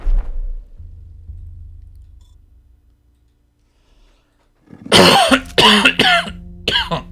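A person coughing several times in quick succession after a long quiet stretch, loud and close, with a faint low hum and a soft sound at the start.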